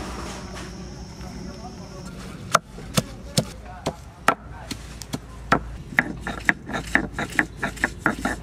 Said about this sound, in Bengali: পাতা কটাই আমি এইভাবে বেটে নেব